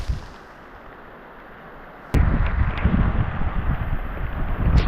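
Heavy rain and strong wind lash a farm field in Thailand, a sudden loud roar of rushing wind and downpour bursting in after a quieter stretch and staying dense and gusty to the end.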